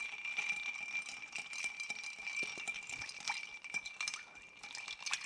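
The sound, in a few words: stirring ice in an Irish Old Fashioned cocktail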